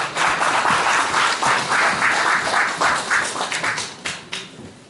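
Audience at a 2018 mayoral candidacy press conference in a Gumi city hall book café applauds steadily and loudly, dense overlapping hand claps sustained throughout, thinning slightly toward the end.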